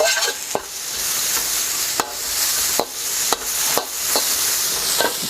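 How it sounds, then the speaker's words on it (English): Chicken stir frying in a hot pan with garlic, a continuous sizzle with several sharp scrapes and taps as it is stirred. "we just want to stir fry this for about 30 seconds."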